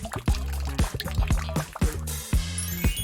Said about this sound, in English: pour it into a bowl with gelatine